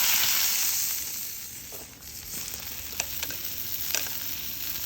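Butter sizzles and hisses steadily in a pan over a campfire at a steak supper, loud and close, with a few faint clinks and scrapes partway through.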